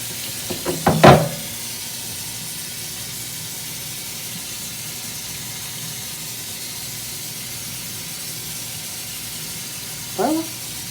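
Hot water runs from a tap as a steady, loud hiss that continues unbroken, with brief voices at the start and again near the end.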